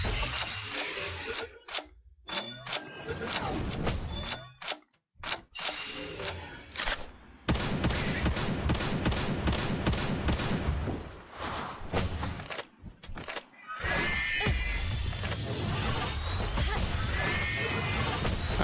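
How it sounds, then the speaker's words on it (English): Shotgun blasts in the creature-catching video game Palworld come as dense, loud bursts of repeated booming shots with mechanical clatter, continuing almost without pause through the stretch with brief gaps. "Shotgun is too strong."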